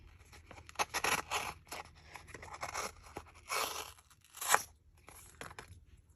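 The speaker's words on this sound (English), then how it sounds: "it cuts through very easily, and it doesn't gunk up your scissors if you glide it through like that" Scissors glide through card-making paper in a series of crisp, close cutting and crunching bursts with short pauses between strokes, and no voice is heard.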